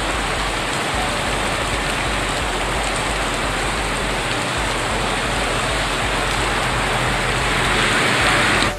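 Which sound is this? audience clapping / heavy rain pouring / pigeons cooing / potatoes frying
heavy rain pouring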